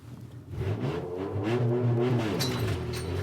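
An LS1-swapped Nissan Silvia revs hard as it pulls away for donuts, its engine note climbing loud and close, alone without voices.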